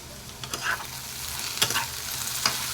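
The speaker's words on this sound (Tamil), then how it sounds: "இந்த மாதிரி பெரட்டி விட்டுருங்க." Raw plantain pieces for a dry stir-fry (vazhaikai varuval) being stirred and turned in a pan: a constant light sizzle with three distinct scraping strokes of the spatula, close and without any talking.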